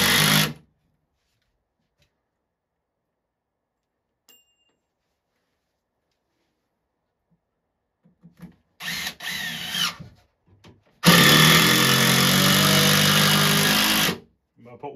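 A power drill drives screws into a 2x4 wooden board during an arcade cabinet restoration, with a short burst of drilling, a brief pause, then a longer steady whirring run, close and loud, and little talk.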